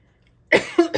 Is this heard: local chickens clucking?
no